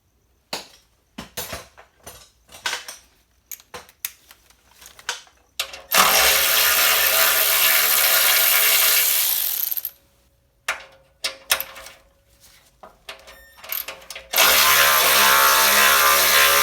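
Ratchet and socket clicking on a 12mm bolt during alternator work on a Toyota MR2 Turbo SW20, heard as short bursts of ratcheting clicks broken by two long, loud stretches of broadband mechanical noise.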